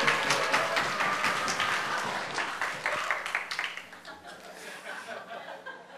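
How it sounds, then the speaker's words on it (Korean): Church audience at a Wednesday Bible study breaks into warm applause welcoming a speaker to the front, the clapping dense at first and then thinning, with scattered chuckles and some voices mixed in. "권지성 집사님 나오실 때 열렬한 환영의 박수 부탁드릴게요"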